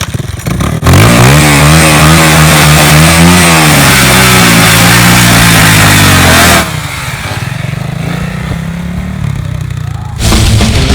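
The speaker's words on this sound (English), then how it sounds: "Captain America Ninja always drag races fair." Dirt bike engine revving hard during a drag race, a loud sustained whine climbing and shifting pitch for several seconds, then cutting to a rougher idle before surging again.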